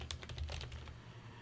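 Quick, light keystrokes on a computer keyboard tap out a spreadsheet function, a short flurry of close clicks at low volume.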